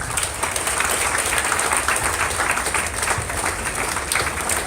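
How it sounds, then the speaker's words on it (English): Crowd at a GDG BootCamp gathering clapping hands together in a steady, full round of applause that carries on evenly with no voices on top. "Simon says clap your hands."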